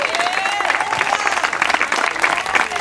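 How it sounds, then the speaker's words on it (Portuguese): Congregation at an outdoor church service claps together in sustained, dense applause, loud and continuous, with faint voices mixed in. "E a igreja dá uma salva de palmas para Jesus"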